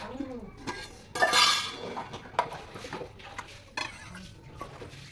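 Dishes and metal pots clink and scrape near at hand, with a burst of running water and occasional sharp clanks.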